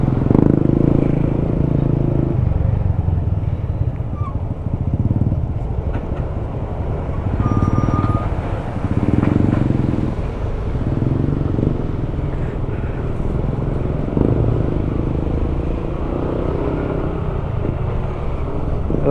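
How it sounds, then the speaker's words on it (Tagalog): Heavy, slow-moving street traffic on a flooded road on a Manila-to-Mindanao trip, with motorcycles and engines idling and rumbling continuously close by, a steady dense low drone with occasional revving swells throughout. "Ganito ka traffic dito ngayon."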